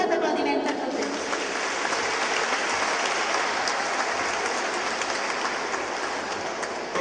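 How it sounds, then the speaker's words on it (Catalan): Sustained audience applause at a children's and primary school choir gathering, a dense steady clatter of many hands clapping, close and full throughout without pause. "Un fort aplaudiment per tots ells."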